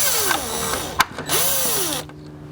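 A power drill whirs in short bursts, rising and falling in pitch, while removing small Phillips screws from the smashed rear end of a 2005 Acura NSX, with a brief clack in between.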